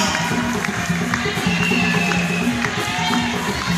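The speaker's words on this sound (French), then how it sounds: "Sous vos acclamations, s'il vous plaît" A large crowd roars and cheers continuously, a dense wash of voices with scattered shouts and whistles rising above it.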